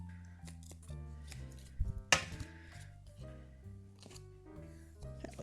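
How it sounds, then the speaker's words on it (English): Scissors trim excess paper from a handmade card in a few quiet snips, with one crisp cut standing out, all under soft background music. "I can trim off the excess because this was actually a little bit bigger than my card base."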